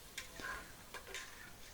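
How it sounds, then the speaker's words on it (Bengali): Spiced chicken and sour yogurt being stirred together in a pan for a spicy roast, with soft scraping strokes and faint sizzling in a quiet kitchen, a few brief clinks of the spoon against the pan. "এখন মশলাটা দিয়ে খুব ভালোভাবে আমি মিক্স করে নিব।"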